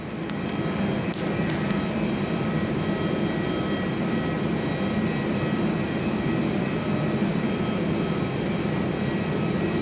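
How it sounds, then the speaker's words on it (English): Qantas Airbus A320 airliner landing at Perth Airport, heard from an indoor viewing platform: a continuous, steady jet roar with a low rumble, muffled and moderately distant, with no speech. "Landing is a Qantas A320."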